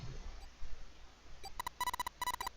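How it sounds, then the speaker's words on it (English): Electronic beeps in quick bursts from behind a metal door in the video game 999, a cluster of repeated tones rising partway through, heard through a muffled, hollow background. "Do you hear something? Like what? Like some sort of beeping?"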